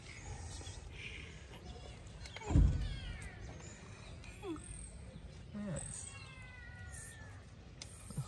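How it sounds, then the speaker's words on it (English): A cat meows several times, one louder drawn-out cry followed by softer, wavering calls, nearby in a quiet room. "Unique meow."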